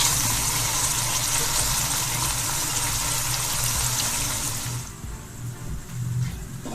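Onions frying in a pan for chicken pulao give off a loud, steady sizzle with a watery hiss that drops back to a softer crackle near the end, close up with no talking.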